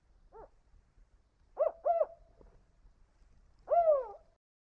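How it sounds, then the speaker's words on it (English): A California spotted owl in the Sierra Nevada forest gives its four-note hooting call: one soft hoot, a quick pair, then a longer final note, clear against a quiet background. "They communicate using a wide array of vocalizations, primarily a four-note call."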